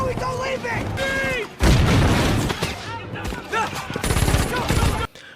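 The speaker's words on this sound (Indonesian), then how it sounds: "Benar saja sesuai dugaan Phil, mereka pun habis diberondong peluru dan terpojok." Gunfire in a film scene as characters are riddled with bullets: bursts of rapid shots and loud impacts mixed with voices and score, dense and close throughout.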